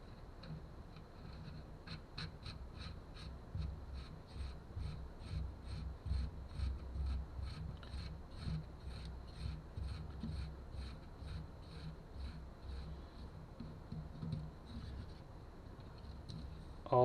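A cone is screwed onto a Kuwahara bicycle hub axle, giving a quiet, close run of small regular metallic ticks and clicks over a soft background hum.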